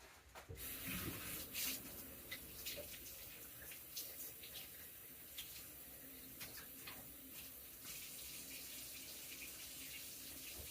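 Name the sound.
washing mushrooms under running tap water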